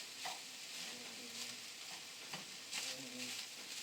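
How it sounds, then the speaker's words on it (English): Chopped onion stirred in a hot pan on low heat, a soft steady sizzle broken by scraping stirs of the spoon, close and fairly quiet. "we're just going to stir this onion in here"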